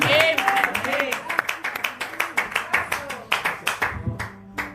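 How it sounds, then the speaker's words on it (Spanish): Church congregation claps in a steady rhythmic beat during a Spanish-language morning service, sharp regular hand claps under voices that fade partway through, leaving the clapping alone. "Den un aplauso al Rey de Reyes en esta mañana"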